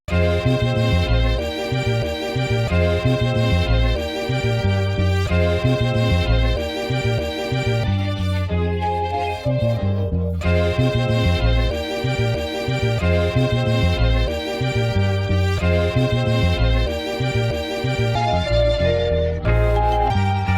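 A continuous looped music sample chopped into short melodic segments with the drums removed, dense tonal chords with a strong low end and no clear drum hits, playing steadily throughout.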